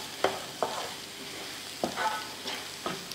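A spatula scrapes and stirs through egg keema fry with coriander and curry leaves in a pan, several crisp strokes over a soft steady sizzle, close and fairly quiet.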